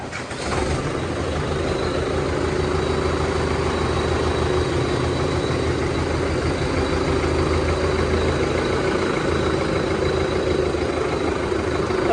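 A 260 HP farm tractor's engine runs steadily at a low, even idle, a continuous loud rumble with no voices, close by outdoors.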